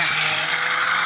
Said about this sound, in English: Sharpening that machete up.